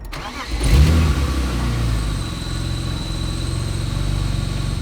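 A supercharged BMW M3 cranks and fires up, flares loudly in a brief rev, then settles into a steady near idle.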